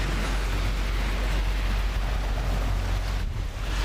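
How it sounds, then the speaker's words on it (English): Strong wind buffets the microphone beside a Toyota LC200 Landcruiser touring build, a steady low rumble and broad rushing noise with no talk over it. "It's a bit too windy today"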